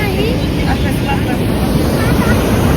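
Floodwater rushes over a bridge in heavy rain, a loud constant roar of water churned up with strong wind buffeting the microphone.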